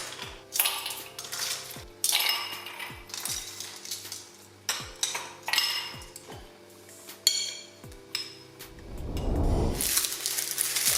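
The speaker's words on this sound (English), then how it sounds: "Add some ice." Ice cubes drop into a drink for a Samoan ripe-banana dish, giving a series of bright clinks and rattles against a glass, close and irregular, with a louder rushing pour near the end and no voices.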